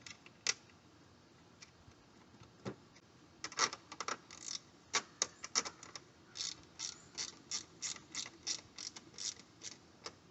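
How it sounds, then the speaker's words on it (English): A hand ratchet tightens two nuts on a tail light housing of a 2013 Nissan Altima, giving a few scattered clicks and then a quick, regular run of close, crisp ratcheting clicks, with no talking. "tighten our two nuts up on the back"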